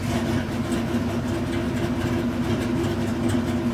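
A car engine with a mild cam idles on its carburetor choke, giving a steady, slightly lumpy low rumble, close and continuous with no talking.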